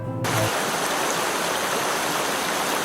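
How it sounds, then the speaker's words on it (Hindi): Flowing water of a stream in a quiet forest, a steady broadband rush that runs loud and continuous through the whole stretch with no other sounds. "बहता हुआ पानी"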